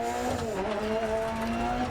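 Rally car in the DiRT Rally 2.0 video game sliding off the road, a steady engine drone with gliding pitch and a brief tyre scrub, loud and continuous with no talk.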